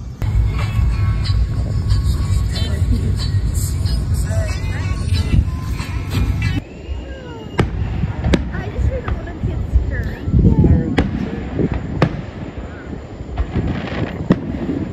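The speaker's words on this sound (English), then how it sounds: "we're gonna watch the fireworks from" Fourth of July fireworks explode in a run of sharp bangs, some near and loud, others fainter, over a steady rumbling background while people talk nearby.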